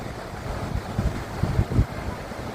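Rushing river water released from the Moolathara dam near the Nilampathi bridge at Chittur, Palakkad, churning as a steady low roar with a few heavier surges, alone and without voices.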